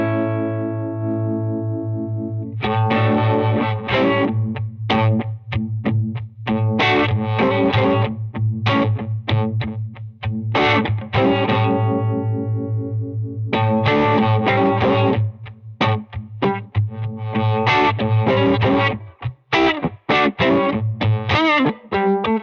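Electric guitar through a Spruce Effects Badlands Univibe-style pedal rings out with a throbbing, swirling modulation over a sustained low note, then plays strummed chords and choppy phrases up close.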